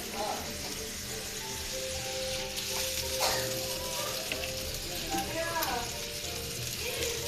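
Spice masala frying in oil in a pan, a loud steady sizzle with stirring clicks and scrapes, and a voice talking faintly underneath.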